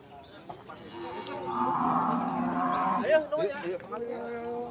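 Cattle lowing at the Purwakarta livestock market, a sustained deep moo swelling through the middle with shorter calls after, amid crowd murmur and nearby voices.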